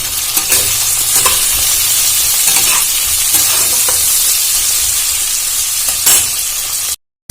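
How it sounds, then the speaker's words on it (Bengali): Chopped onion and tomato sizzle loudly in a pan while being stirred, with scraping strokes over a constant fry, ending in a brief silence. "আমি একটু ভালো করে নাড়াচাড়া করে একটু ভেজে দেবো"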